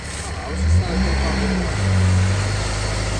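Vauxhall Frontera (Isuzu MU) on road tyres, engine revving loudly as all four wheels spin, stuck off-road; a steady mid-pitched engine drone rises and falls under a person talking.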